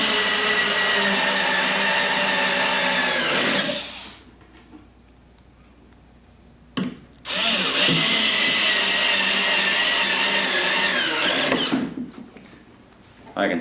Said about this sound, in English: Now I'll set these screws.